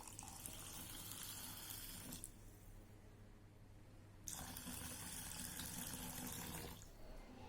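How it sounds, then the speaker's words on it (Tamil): Water poured over rice and lentils to soak for multigrain dosa batter, two separate steady gushes of running water close by, with a quieter pause between them. "அடுத்தா நம்ம இந்த அரிசியும் பருப்பும் மூழ்கிற அளவுக்கு தண்ணி சேர்த்துக்கலாம்."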